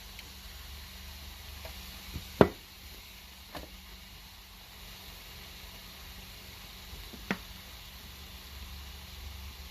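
Seasoned meat, salted and heavily peppered, frying in a home-style country kitchen pan: a steady soft sizzle runs throughout, broken by a few sharp clicks or pops, with no talking.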